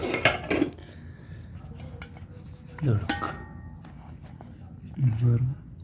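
A metal spoon clanks and scrapes against a pot while mutton spleen gravy is stirred, three short bursts of clatter separated by quiet stretches, with someone talking in between.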